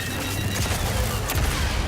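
Dense, continuous gunfire and explosive rumble in Star Wars Jedi: Survivor fill the scene, a loud, chaotic barrage without clear pauses.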